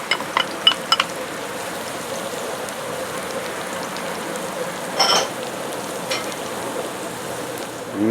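Red onions and garlic sizzle in hot olive oil, a steady close crackling hiss with occasional louder pops and stirring clatters, no voices.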